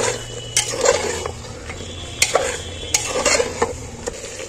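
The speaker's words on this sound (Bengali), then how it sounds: "আবার নাড়াচাড়া করছি।" Mutton pieces being stirred in a cooking pot, with a spoon scraping and clinking against the metal in irregular close strokes over a low sizzle.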